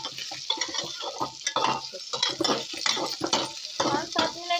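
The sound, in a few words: soybeans roasting and being stirred in a pan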